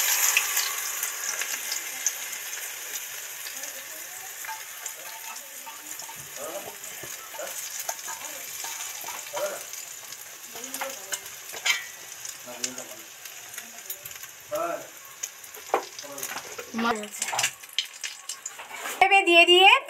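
Marinated egg chili mixture fries in a wok: a soft sizzle runs throughout as voices talk over it, with clattering stirs and a louder burst of frying near the end.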